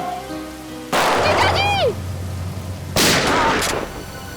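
Two loud, sharp gunshot blasts about two seconds apart, each with a ringing tail, alongside a whistling swoop and dramatic background tones, from a TV crime drama.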